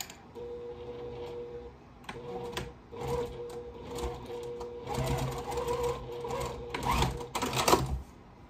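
Domestic sewing machine stitching a quilt block for a four-patch basket, running in several close, rhythmic bursts with mechanical ticking and clatter that grow louder toward the end.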